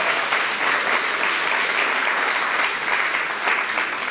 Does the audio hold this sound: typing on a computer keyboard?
no